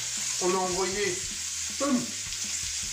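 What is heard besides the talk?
potatoes being fried in oil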